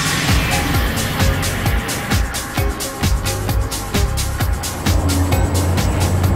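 Traffic and cabs moving through Times Square, New York, make a loud, dense roar, with engines and tyres passing close by in a steady stream and brief surges in between.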